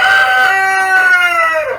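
A Gümüş Zibrit rooster crows loudly and close by, one long drawn-out call that trails off at the end, with no talk.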